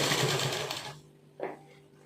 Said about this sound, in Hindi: अब यहाँ से इसकी सिलाई लगाना शुरू करेंगे।